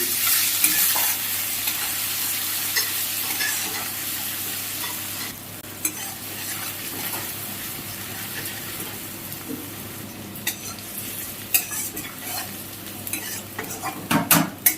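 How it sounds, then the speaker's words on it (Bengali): Chopped onions fry in hot oil in a pan for a bhetki chilli fish dish, with a continuous sizzle under repeated stirring. Sharper spatula scrapes and clinks against the pan come through near the end. "এখানে আমি কুচোনো পেঁয়াজ দিয়ে দিচ্ছি"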